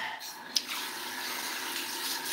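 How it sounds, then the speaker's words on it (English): Water runs steadily from a bathtub tap, refilling for cleaning the tub with homemade cleaner paste, a constant close hiss with one brief knock near the start. "Guess I need to add some water in here again."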